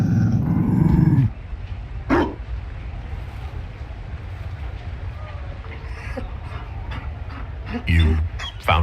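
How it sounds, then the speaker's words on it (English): A Mabari dog in the video game Dragon Age: Inquisition gives a low growl at the start, followed by a steady ambient wash with brief sharp bursts and voices speaking. "You found a dog?"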